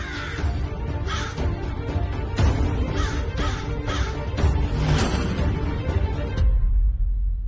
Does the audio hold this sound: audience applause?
no